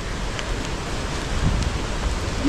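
Steady outdoor rain hisses as a dense, even wash across the whole stretch, close and fairly loud, with no talk over it.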